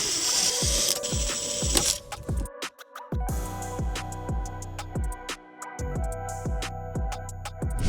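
Screws holding a car radio in a Nissan Patrol dashboard are undone with a ratcheting tool, giving a close, loud run of rhythmic ratchet clicks in repeated bursts with short pauses between them.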